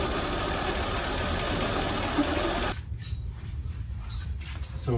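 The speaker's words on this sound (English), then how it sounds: "Now you can hear the car idles more smooth and more quieter than at the beginning of this video." Car engine idling smoothly and quietly after work on it, a steady low hum that continues throughout, with a broadband hiss cutting off partway through and faint clatter afterward.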